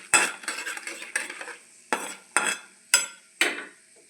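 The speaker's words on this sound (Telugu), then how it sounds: "కొంచెం పోపు ఇలా వేసుకోండి" Tempering spices for idli upma sizzle faintly in a pan while a utensil stirs and scrapes them in a series of short, sharp bursts spaced about half a second apart.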